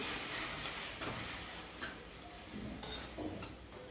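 Soaked mung dal being stirred into a pan of hadga (agati) flower vegetable: soft scraping and clinking of a spoon against the pan, with a few sharper taps in an irregular rhythm, fairly quiet and close.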